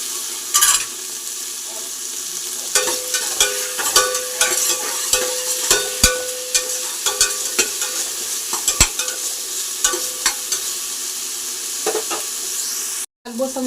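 Ginger garlic paste sizzles in a pan, close up, while a spoon scrapes and knocks in an uneven rhythm. A brief silent gap falls near the end.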